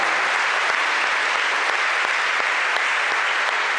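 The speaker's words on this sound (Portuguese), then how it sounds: "Vamos dar uma salva de palmas para a palavra de Deus mais uma vez" A Mass congregation in a sanctuary bursts into dense, sustained applause for the word of God, loud and close, with no speech over it.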